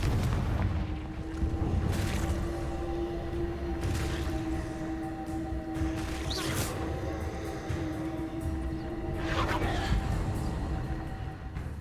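Confringo fire spells go off repeatedly in Hogwarts Legacy, giving a series of dull booming blasts over a steady humming game background. Each blast is close and moderately loud.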